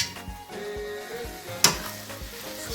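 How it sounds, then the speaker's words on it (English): Cooked, soft noodles stirred in a hot pan, a soft sizzle with scraping utensil strokes and one sharp metallic clink midway, close and fairly quiet. "stir it"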